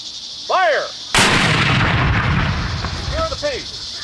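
Cannon fired at a Buffalo Soldiers reenactment at Fort Bayard, New Mexico, a single loud sharp boom followed by a long rumbling decay, with brief shouted voices before and after.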